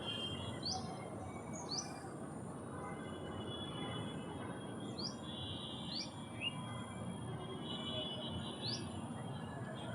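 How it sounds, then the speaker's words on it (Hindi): Small birds chirp outdoors in short, bright, scattered calls, some near and some farther off, over a steady low rumble and hiss of background noise with no talking. "कितनी प्यारी प्यारी सी चिड़ियाँ बोलती हैं यहाँ पर।"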